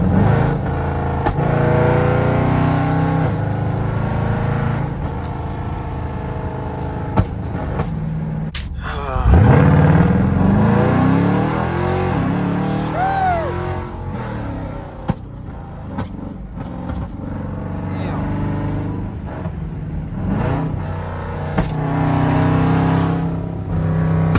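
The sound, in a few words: flame throwing 5.7 Jeep engine during night drive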